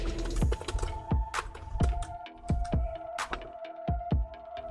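A new password is typed on a computer keyboard: a run of distinct, close key clacks at an uneven pace, some louder than others, over a steady low electrical hum.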